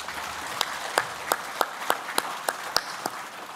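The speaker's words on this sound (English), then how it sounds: "Let's give him a round of applause." Applause at a chamber of commerce closing address in Papua New Guinea, heard as a sparse, fairly even run of distinct handclaps about three per second over a steady room murmur.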